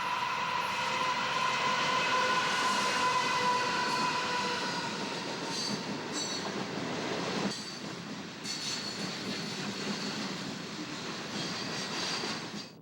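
A heavy C40-8 diesel locomotive rumbles past hauling a long coal train, with a steady roar, a fading horn-like tone, and wheel squeals later on.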